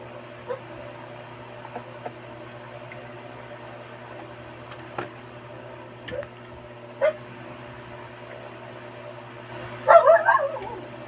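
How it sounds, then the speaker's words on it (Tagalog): Several dogs bark outside near a gate, with brief, scattered barks over a steady low hum and a louder cluster of yelps toward the end. "natatawa ako ang ingay ng aking mga aso nandun sa labas"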